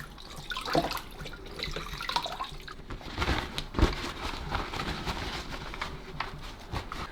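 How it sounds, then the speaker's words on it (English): Clean tap water runs steadily over the infuser from a De'Longhi Magnifica S coffee machine as it is rinsed in a sink, with splashing and uneven gushes and a few knocks of the part against the basin. "I'm just going to rinse it now under some clean water"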